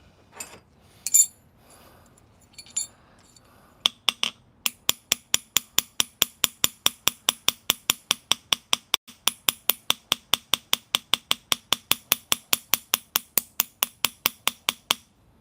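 A hammer strikes metal on an anvil to straighten it. After a few scattered knocks, about forty sharp, ringing blows follow in a steady, fast rhythm, loud and close, with no talking.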